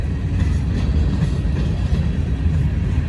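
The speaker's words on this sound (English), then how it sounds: "Wonder how many cars are on this train." A long freight train rolls past on a snowy railroad line, a loud, continuous low rumble with steady rolling wheel noise close by, no voices.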